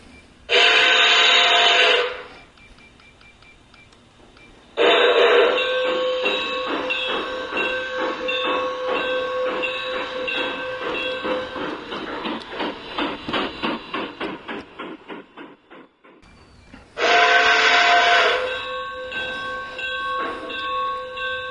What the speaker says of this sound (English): Our train is now going through the tunnel, which will be underneath a hill